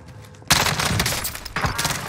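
Rapid gunfire in Call of Duty Warzone erupts loud and close in two dense bursts, with a brief lull between them and no talk.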